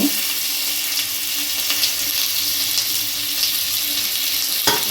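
Ginger garlic paste and salt fry in a pan for tomato rice, giving a constant bright sizzle and hiss with a few soft stirring knocks, close up and uninterrupted by speech.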